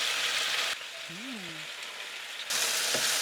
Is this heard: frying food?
yes